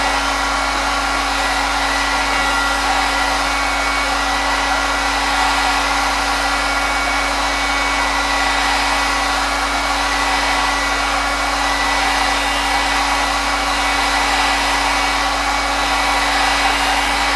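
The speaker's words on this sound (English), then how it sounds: "So this is the hot air gun, which I showed you in the last video." A hot air gun heating a Pepakura foam piece runs as a loud, constant blowing hum with a steady tonal whine, uninterrupted and close, with no voices.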